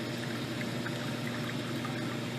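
Water pouring steadily into water in a balloon-filling setup, a continuous close splashing rush with no pauses.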